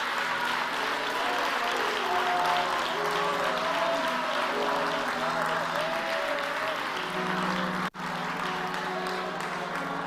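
A church congregation claps steadily during a sermon, continuous applause filling the room with voices and tonal sounds running underneath and a brief sharp dropout near the end.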